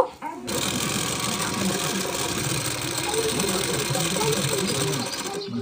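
Electric sewing machine running steadily while top-stitching a strip onto a bra-cut blouse, a continuous fast mechanical whir lasting several seconds, close and fairly loud, with a faint voice underneath.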